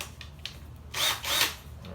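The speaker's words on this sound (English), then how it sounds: "I got to take the drill and drill into those plastic pieces" A power drill bites into plastic pieces of a 1983 Tamiya Lancia Rally RC car body, with two short whirring bursts followed by a louder, longer spin-up and grind, close and alone.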